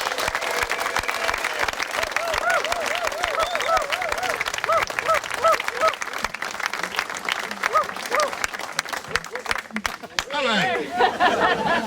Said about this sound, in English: please give Mark a round of applause